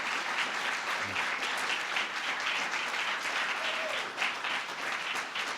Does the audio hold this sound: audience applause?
yes